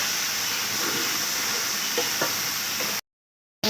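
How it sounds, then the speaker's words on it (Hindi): Okra coated in spices and lemon sizzles in a hot pan as it is stirred, a steady close hiss that runs for about three seconds and then cuts to silence. "हमने उसमें मसाला लगी और लेमन लगी भिंडियाँ इसमें डाल देनी है। उसको चलाना है अच्छे से।"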